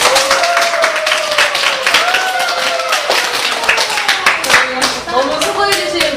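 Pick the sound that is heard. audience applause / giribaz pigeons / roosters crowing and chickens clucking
audience applause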